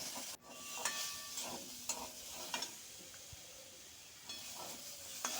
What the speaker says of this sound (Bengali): দিয়ে বেগুনটা এখন মা ভালো করে ভেজে নিচ্ছে